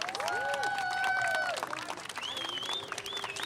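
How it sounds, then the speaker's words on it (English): An outdoor crowd at an Armenian Genocide commemoration in Times Square applauds the organizing committee, with scattered claps and cheers mixed with raised voices and a whistle-like tone, fading slightly toward the end. "Please give them a round of applause."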